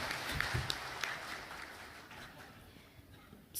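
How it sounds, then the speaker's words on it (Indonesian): Applause rises from an audience at a provincial health office ceremony in Banten, Indonesia. It is fairly faint and thins out and fades over a few seconds. "Tepuk tangan semua."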